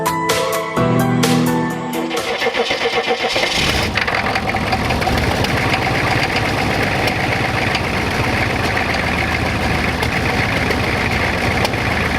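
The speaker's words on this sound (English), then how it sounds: "I am going to try and start the Suburban" A Suburban's diesel engine cranks briefly, catches and settles into a steady, loud, close idle with a rough, knocking clatter that runs unbroken for the rest of the stretch.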